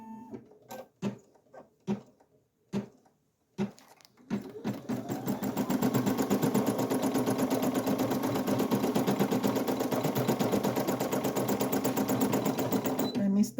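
Single-needle embroidery machine stitching around a shirt neckline: a few short isolated thumps at first, then a steady, loud, fast mechanical chatter of the needle running continuously to the end.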